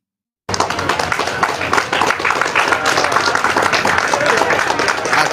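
A crowd claps and applauds steadily and loudly, the noisy clapping starting abruptly and continuing without a break, with some voices mixed in.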